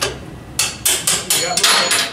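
Sharp, loud metal-on-metal hammer blows strike a long punch to drive a steering head race out of a motorcycle frame, five or so ringing hits in a quick, slightly uneven rhythm, close up with no talking.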